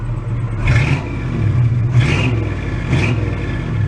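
An idling 1986 or 1987 Oldsmobile Cutlass V8 that sat unused for five years gives a throaty rumble, with three short revs rising above the idle close to the car.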